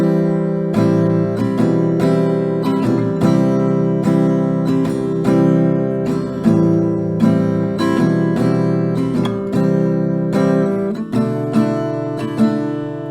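Guitar strummed through one full round of the chord progression for a song, steady rhythmic strokes with regular chord changes, loud and close with no talking.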